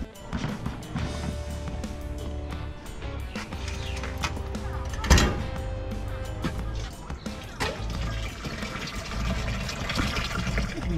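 Water is poured to fill a container at an outdoor cooking spot, a steady splashing fill running through the whole stretch amid busy background noise and faint voices.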